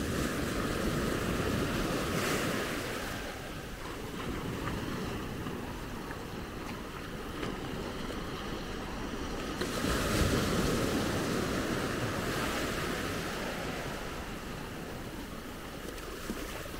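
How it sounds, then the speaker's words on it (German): Gentle ocean waves at Maspalomas, Gran Canaria wash in and swell, with surges around a few moments, under steady wind rumble and no voices. "so eine kleine Welle hat hier."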